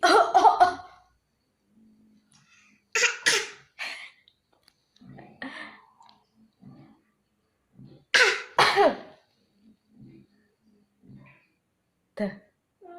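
A child imitating an old man's cough, with several short throat-clearing coughs in separate bursts between quiet pauses, close and fairly soft, with faint breathing in between.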